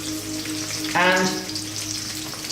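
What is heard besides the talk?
sautéing chili, onions and garlic in coconut oil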